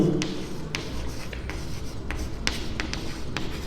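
A pen writes out a mathematical logic statement by hand, a steady close scratching with repeated short strokes and taps as letters are formed, heard alone.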